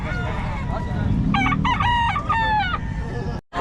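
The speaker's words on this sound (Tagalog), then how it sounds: "Anong line na ito, sir? Boston Hen yan." A Boston Hen gamefowl rooster crows once nearby, a loud drawn-out cock-a-doodle-doo in several rising and falling segments, set against steady low background noise, ending in an abrupt cutoff.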